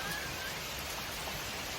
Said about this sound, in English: hide out here for a few minutes until hopefully the rain abates